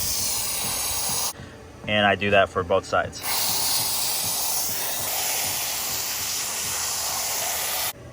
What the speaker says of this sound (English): with the other hand I just spray it down with a hose